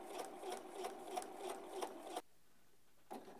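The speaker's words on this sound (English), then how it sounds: "For the basting stitch, you're going to use the longest stitch on your machine." A sewing machine runs a long basting stitch along a shirt collar in fast, steady rhythmic pulses, close and clear, then stops abruptly for about a second before briefly starting up again.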